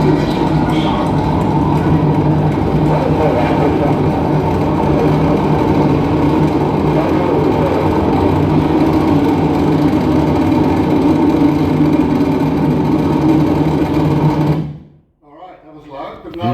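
Space Shuttle Discovery booster ignition and liftoff, a loud, dense, continuous rocket roar that fills the clip without a break, then cuts away abruptly near the end into quieter sound.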